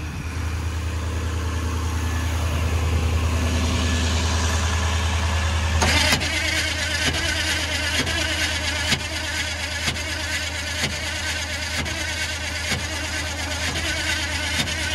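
A Jeep 4x4 engine runs with a steady low rumble that shifts partway through into a rougher, pulsing idle with regular knocks, close and fairly loud, with no talking.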